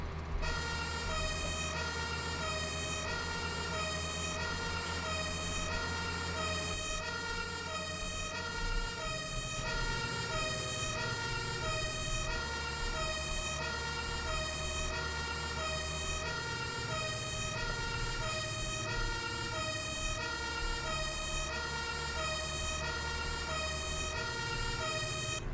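Fire engine tanker (TLF) siren in the Landwirtschafts-Simulator 17 game, a loud continuous two-tone wail repeating steadily over a low rumbling vehicle engine, dominating throughout.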